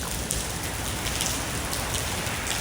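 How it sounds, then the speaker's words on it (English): Steady rain falling on a surface, a dense even patter with soft individual drops, continuous and close throughout. "with all of this rain"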